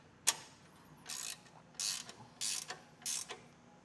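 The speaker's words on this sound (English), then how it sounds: "it's just a 17 millimeter socket to get this tightened down" A 17 millimeter socket wrench tightening a bolt on a Roadmaster Direct-Connect base plate on a 2023 Jeep Gladiator frame, heard as a sharp click and then four short rhythmic ratcheting bursts, close and alone.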